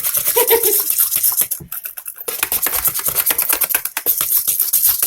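A whisk beats a mixture of coconut milk and vegan butter in a bowl, giving a steady, close, fast scraping and swishing rhythm with a brief pause near the middle before the whisking resumes.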